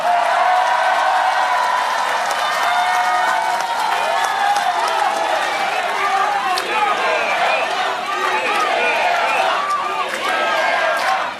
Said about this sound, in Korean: 박수 좀 크게 써주세요.